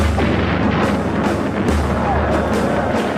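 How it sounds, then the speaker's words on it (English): Booby trap detonation in a wartime setting, a dense, loud rumbling blast sound that fills the whole moment with continuous low booming. "the booby trap would detonate"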